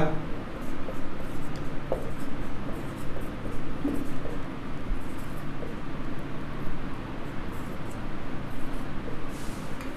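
Numbers are written on a board with repeated scratchy strokes that run through the whole stretch, fairly close, over a steady room rumble.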